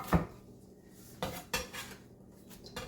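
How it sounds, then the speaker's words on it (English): A knife julienning an onion thinly on a cutting board makes a few sparse, close chopping knocks at irregular intervals in an otherwise quiet kitchen. "I'm going to go ahead and just julienne these, and I'm going to make it really thin."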